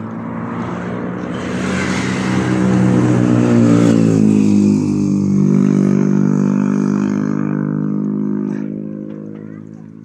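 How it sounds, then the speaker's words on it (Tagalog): A backhoe excavator engine runs loud and close in hot outdoor conditions, a deep steady drone that climbs in pitch as it revs, holds, then eases slightly. "Yung sasakyan ng pakyat."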